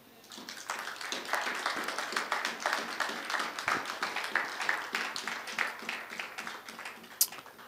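Congregation at a church service clapping in steady rhythmic applause to acclaim the Lord, a dense continuous patter of many hands, fairly close, no talk over it.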